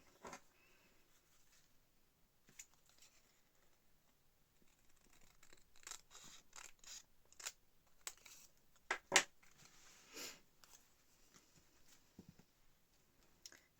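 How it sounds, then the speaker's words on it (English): Scissors trimming excess paper from an envelope folio craft project, a series of short crisp snips and rustles, quiet and close, with no talking. "I can trim it down a little bit"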